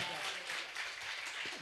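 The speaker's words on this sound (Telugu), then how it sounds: "కొట్టు చప్పట్లు గట్టిగా" A church congregation clapping loudly during a sermon, a dense, continuous wash of many hands throughout, with a voice speaking over it.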